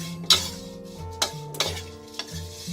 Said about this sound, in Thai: เปิดไฟอ่อนแล้วใส่ปลาไปเลยค่ะ เดี๋ยวเราจะคั่วนะ